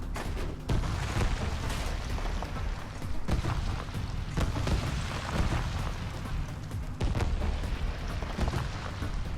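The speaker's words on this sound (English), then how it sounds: "that is the, I believe, the first Flak Cannon I've ever seen in Trailmakers" A flak cannon fires repeatedly in Trailmakers, a series of muffled booms and bursts at an irregular rhythm over a constant low rumble, moderately faint and with no talking.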